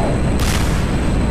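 A missile strikes its target in the DCS World flight simulator, a loud, sudden blast with a heavy rumbling boom that fills the short moment.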